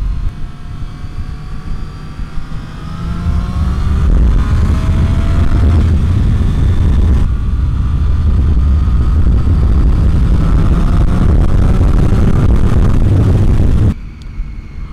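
A 2013 Triumph Street Triple R motorcycle accelerating uphill in second gear: a loud, steady engine roar mixed with wind rush that swells and holds near the rider, then drops off sharply near the end.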